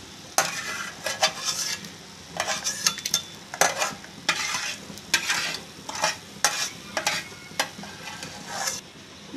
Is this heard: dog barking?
no